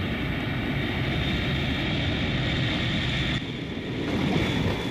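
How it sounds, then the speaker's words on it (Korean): Airplane landing on the runway at Gimpo airport in Seoul, giving off a steady, dense engine roar close by that dips briefly near the end before swelling again. "한 여인을 태운 비행기가 김포의 활주로에 내려섰다"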